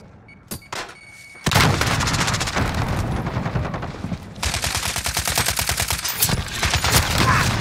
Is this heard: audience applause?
no